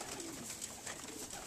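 Pigeons coo softly and continuously while being hand-fed peanuts, a steady low murmur of several young birds close by with no talking.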